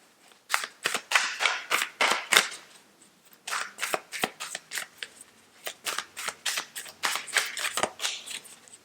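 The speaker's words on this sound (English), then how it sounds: "Don't mind my left-handed shuffle here" Repeated crisp riffling bursts of tarot cards being shuffled left-handed, close and fairly loud, in quick uneven rhythm with short pauses between rounds.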